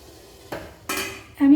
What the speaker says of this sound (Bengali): ঢাকনা খুলে দেব।